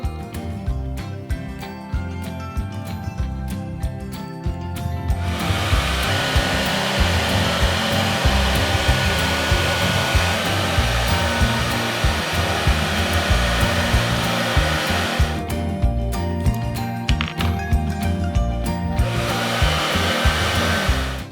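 A hair dryer roars loudly and steadily while blow drying medium-length hair over a round brush, with a few seconds of quieter brushing and handling noise at the start and again near the end.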